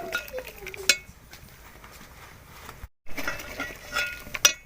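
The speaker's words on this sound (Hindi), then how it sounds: "अब हम इनको अच्छे से मिक्स करते हैं," Cumin powder and karahi masala are mixed and fried in a karahi for beef karahi, heard as close, intermittent spoon scrapes and metallic clinks against the pan, with a brief dropout midway.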